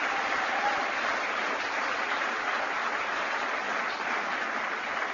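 An audience at a political event in Indiana claps steadily for the Lieutenant Governor, a continuous, even wash of applause heard from a slight distance.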